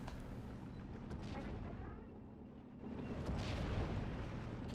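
Distant artillery rumbles in the video game Steel Division: Normandy 44, a Normandy battle with 88s and 25-pounders, heard as a low continuous roar of booms and blasts that swells toward the end.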